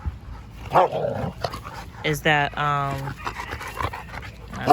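A female Dogo Argentino vocalizes in short bursts, with one drawn-out, whining bark in the middle, while a person talks nearby indoors.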